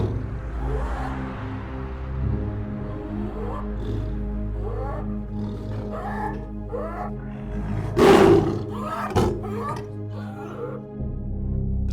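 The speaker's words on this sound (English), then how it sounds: "The tiger's reverberating roar paralyzed entire villages" A tiger roaring with deep, rumbling, repeated growls that build into a loud, sharp roar near the end. The sound is close and fairly strong.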